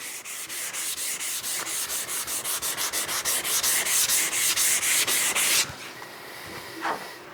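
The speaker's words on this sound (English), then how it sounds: "I'm keeping this in real time just so you guys get an idea how much sanding I did on it" Continuous rhythmic hand sanding of a 3D printer build surface, a rough scratchy rubbing stroke repeated quickly and steadily for several seconds, then stopping, followed by quieter handling noises.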